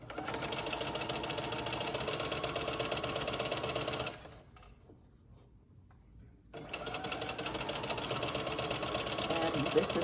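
A sewing machine tacks toddler romper fabric near a zipper edge in a loud, continuous run of rapid stitching that stops for about two seconds and then resumes at full speed.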